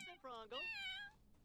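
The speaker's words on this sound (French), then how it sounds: "Arrêtez de miauler." A short, close meow from a cat in The Sims 4, rising then falling in pitch over about a second, with a brief squeak just before it.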